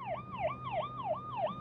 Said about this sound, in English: I think there's a police car behind you